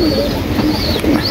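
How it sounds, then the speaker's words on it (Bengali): A pair of pigeons coo close by in low, throaty, rolling calls that overlap and continue steadily with no pause. "এখানে আমার এক পেয়ার কবুতর আছে"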